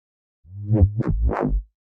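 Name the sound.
bass with saturation distortion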